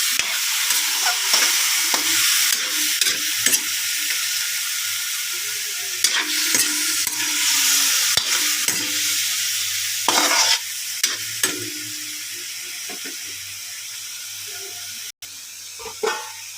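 Chicken sautéed with aromatics and peanuts in a pan, a constant sizzle broken by repeated scraping and clattering stirs, growing quieter toward the end with a final sharp knock.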